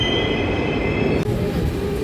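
A Moscow metro train runs steadily, with a loud continuous rumble of wheels on rails and a high squealing tone throughout, one brief dip in the noise near the middle.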